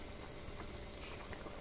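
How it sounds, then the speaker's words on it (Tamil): A pot of green turkey berry kuzhambu, a Tamil gravy, bubbles on the stove with a soft, constant simmering hiss and faint popping, fairly quiet and steady throughout. "நல்லா காய் வந்து நல்லா வெந்து குழம்பு கொதிச்சு வருது."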